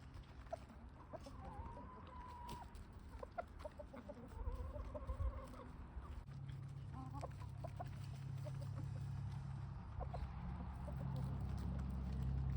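Chickens cluck softly in short, uneven calls close by while pecking and shuffling, with a low steady rumble underneath.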